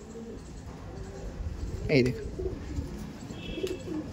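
A male and female pair of Madras pigeons give a soft coo near the middle, heard close up beneath a man's speech.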